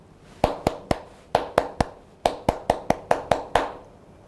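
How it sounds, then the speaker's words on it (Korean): A lecturer's bare hands clap out the rhythm of the Korean children's song Nabiya: fourteen sharp, close claps in short grouped phrases with brief pauses between them, alone in a quiet room. "지금 제가 박수로 친 게 어떤 노래인지 아시겠나요?"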